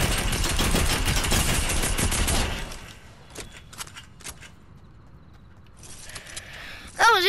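Video game gunfire bursts out as a dense rapid automatic volley for a few seconds, then gives way to scattered lighter shots and clicks, fainter game sounds and a brief tonal effect at the end.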